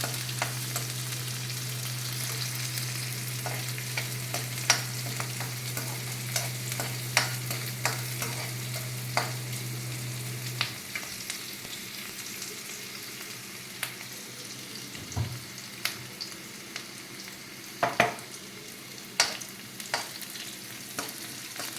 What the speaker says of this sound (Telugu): కొద్దిగా రెడ్గా ఎర్రగడ్డలు అయ్యే వరకు వేయించుకోవాలి